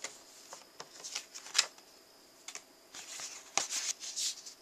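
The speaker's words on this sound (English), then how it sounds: "We'll line it up where our cutting line is and cut that off." Card stock paper being trimmed along a cutting line for a file folder card: quiet, intermittent crisp snips and rustling slides, close and faint, with short pauses between cuts.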